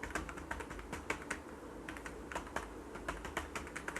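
Typing on a computer keyboard while entering data into a Microsoft Word table: quick, irregular bursts of close, light key clicks with short pauses, no speech.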